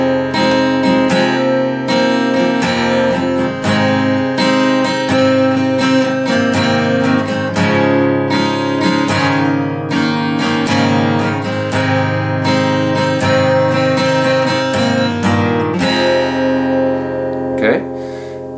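A guitar plays a song slowly, with ringing chords and picked notes in a steady, dense strum that stays fairly loud and continuous.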